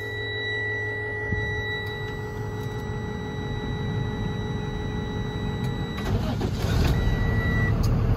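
A 2014 Freightliner M2 ambulance with a Cummins 6.7L diesel cranks and fires up close by, its steady idle rising near the end over a constant electronic tone.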